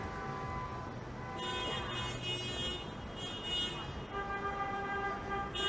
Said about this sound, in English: I have no idea what all this honking is all about